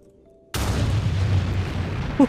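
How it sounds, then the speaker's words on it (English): Rocket launch explosion in a hardcore Minecraft survival game, a sudden loud boom out of near silence that rolls into a sustained rumbling roar for about two seconds. "The explosion broke almost 5 stacks of sand total"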